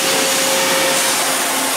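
A CNC machine cuts turbocharger bearing housings with a loud, steady, even whir and a faint constant tonal hum, with no pauses.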